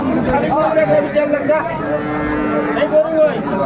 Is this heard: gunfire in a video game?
no